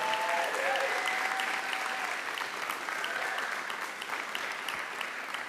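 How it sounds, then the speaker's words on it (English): Sustained applause from an audience at a school board meeting honoring district champion girls' team, dense and even clapping from many hands filling the room. "Let's give them a round of applause."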